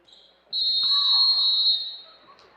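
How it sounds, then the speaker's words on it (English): A referee's whistle at a high school basketball game in a gym, one loud sustained shrill blast of about a second, with faint gym noise around it. "There we go, whistle, and underway."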